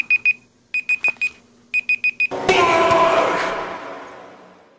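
A Google Assistant timer alarm beeps in quick repeating clusters of three to four tones, then stops as a loud, noisy burst of sound takes over.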